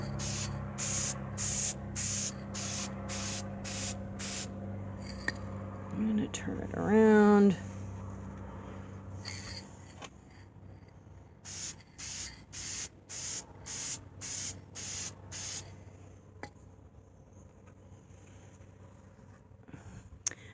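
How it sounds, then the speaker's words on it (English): Clear satin-finish acrylic spray hisses from an aerosol can onto a small cupcake magnet craft in short repeated bursts, loud and close, broken by a brief squeaky rubbing sound and a spoken line partway through. "I'm going to use this satin finish acrylic spray, obviously in clear."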